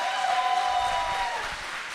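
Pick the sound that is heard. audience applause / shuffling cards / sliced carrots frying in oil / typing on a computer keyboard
audience applause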